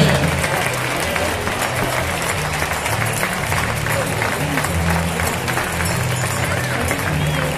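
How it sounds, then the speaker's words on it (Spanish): Crowd applause at an award ceremony for a bull-dodging recortadores contest in Soria, sustained thick clapping with a low murmur of voices and cheering underneath. "¡Fuerte el aplauso para él!"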